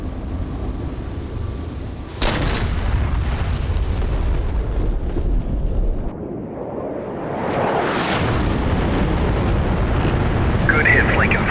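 Bomb blasts from a 1967 Vietnam War airstrike near Thai Nguyen: a sudden heavy boom with sustained rumble, then a rising jet roar of an attacking aircraft, with radio chatter over the din.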